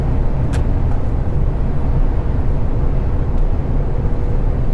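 An HGV truck drives along a quiet road, its cab filled with a loud, steady low engine drone and road rumble that holds unchanged throughout.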